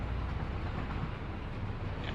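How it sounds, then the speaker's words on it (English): A bauxite cargo train rolling along its track in the factory-building game Satisfactory, a continuous low rumble with faint rail clatter, steady and fairly close. "There's the bauxite train."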